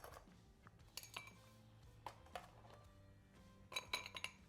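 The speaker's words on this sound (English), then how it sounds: "ice in my glass here, 1 by 1 cubes." Ice cubes dropped one by one into a cocktail rocks glass, each landing as a sharp, bright clink, several spaced-out hits with a small cluster near the end, quiet and close.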